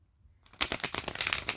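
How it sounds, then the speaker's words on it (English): A pile of cards is shuffled close up after a brief silence, a rapid flurry of soft riffling clicks that stays steady until the end. "I'm just going to shuffle this on camera"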